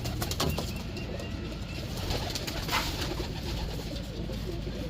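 Pigeons kept as pets coo softly at close range over a steady background hiss, with a few low murmuring calls and no voices.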